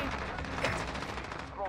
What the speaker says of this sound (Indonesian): Lu ngapain nembakin gua?